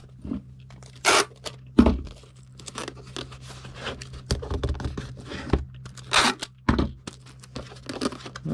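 Tape being torn and pressed down to seal a Gemini mailer for shipping a low-grade collectible, several sharp tearing bursts spaced irregularly with crinkling handling noise between them, close and fairly loud.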